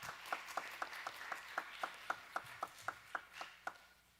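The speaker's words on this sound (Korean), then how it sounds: "박수로 환영하겠습니다" Sparse, evenly spaced claps ring out to welcome a new member at a Friday youth church service, faint and steady, about a dozen sharp hits in a quiet room.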